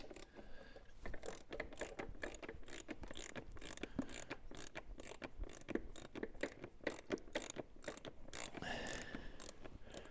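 A hand ratchet turns a 17 millimeter socket while installing a dual-tone horn on a Ural motorcycle, giving rapid, quiet, close clicking in fast repeated strokes with brief pauses, no speech.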